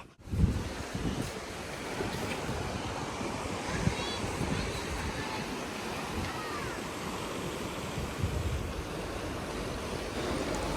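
Sea surf rolling onto a shore where the sea meets hills, a steady broadband wash with low rumble and some wind noise on the microphone, continuous throughout.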